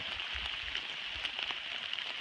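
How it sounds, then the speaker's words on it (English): Heavy rain pours down on the Appalachian Trail, a dense, steady hiss of drops striking wet surfaces, close and continuous with no voices. "it's pouring down rain"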